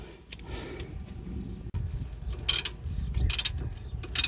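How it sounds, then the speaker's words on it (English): A wrench loosening the bottom bolt on a car being fixed for a clunking noise: quiet ratcheting clicks and metallic ticks, then brighter clanks near the end, close by and without speech. "I need to loosen the bottom bolt"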